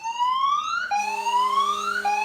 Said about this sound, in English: I'm going to trigger the alarm by pressing this button